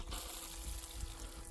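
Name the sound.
water running from camper van rear shower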